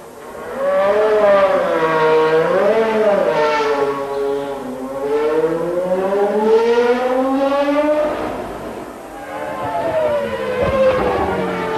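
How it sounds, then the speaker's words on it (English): A 1996 Williams FW18 Formula One car runs at a Barcelona test, its loud high-pitched engine whining up and down in repeated sweeping revs, with one brief drop in between. "By the time Schumacher's Ferrari came in, Damon's Williams was ready to go out again"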